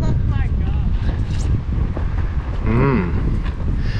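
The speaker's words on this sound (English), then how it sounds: "Apparently it likes the wind." Gusty wind buffets and flaps a budget DIY camper awning of waterproof 280 GSM fabric, a loud rumbling roar close to the microphone, with a person speaking briefly over it.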